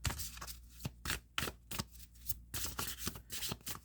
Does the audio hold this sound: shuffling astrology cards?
yes